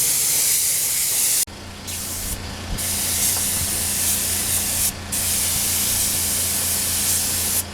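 Spray gun painting a Yamaha FZ600 motorcycle fender red, a steady close hiss that starts abruptly and runs continuously, with brief dips where the trigger is eased, over a low background hum.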